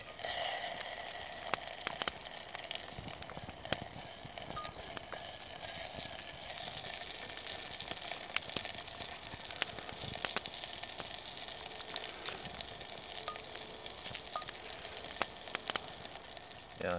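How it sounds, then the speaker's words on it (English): Bacon sizzling in butter in a pan over a campfire in a damp pine forest, a steady, even crackling fry with small pops scattered throughout, continuous and moderately close with no talk. "Some butter in first. Yeah. Yeah, and then I put in the bacon."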